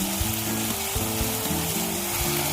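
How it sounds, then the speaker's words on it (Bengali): Spice masala sizzling in a pan for a fish-head moong dal, a dense close frying hiss with low bubbling and soft stirring thumps underneath, no voices. "মশলাটা খুব ভালোভাবে কষিয়ে নিয়েছি, সুন্দর একটা গন্ধ বেরিয়েছে"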